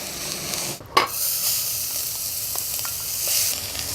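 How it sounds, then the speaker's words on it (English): Onions and a little garlic frying in an everyday saucepan, making a steady close hiss and sizzle with a brief dip and knock near the start before the frying carries on evenly. "Onions and a bit of garlic in here. Now you simply want to cook the onions until they're just about soft"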